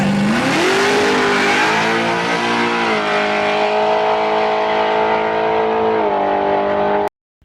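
A car drives off and accelerates hard, its engine roaring loud and close as it climbs through the revs, then cuts off abruptly.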